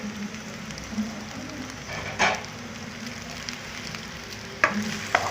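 Macaroni with chicken and vegetables sizzles in a pan while being stirred, a steady low frying hiss punctuated by several scraping and clattering utensil strokes.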